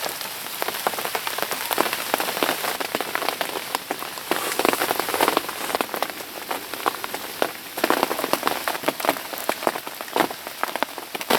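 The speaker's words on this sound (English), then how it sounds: "it is absolutely lashing down" Heavy rain lashes down at a fishing lake at Whelford Pools, a dense, loud, constant patter of drops drumming on surfaces throughout.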